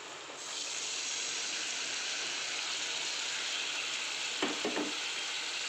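Dal poured into frying masala for dal fry, a steady broad sizzle throughout with a couple of brief stirring scrapes near the end, close and even, no talking.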